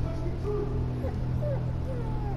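Dog whimpering softly in the video game A Plague Tale: Innocence, a few brief whines over a steady low game soundtrack.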